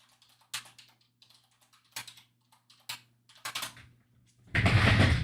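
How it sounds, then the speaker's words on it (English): Scattered clacks of someone typing on a computer keyboard, irregular bursts of keystrokes close by, ending in a louder rush of noise. "So I'm typing a chat to the world."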